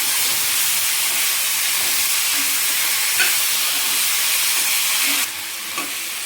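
Tomato pieces sizzle steadily in hot oil in a pan for a spicy tomato-green chilli chutney, a loud, continuous frying hiss with a few brief stirring clicks and a sharper burst near the end.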